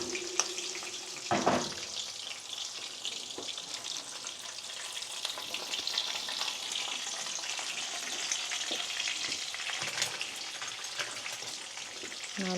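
Food sizzling steadily in a hot frying pan, a constant hiss with occasional pops and a brief clatter near the start, close by and without speech.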